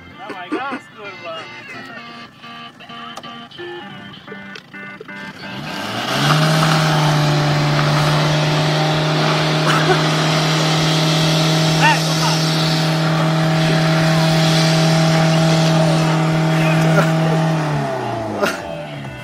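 A 1.9 TDI diesel car engine idles, then revs up hard and holds a loud, steady drone before dropping back, with voices talking over it.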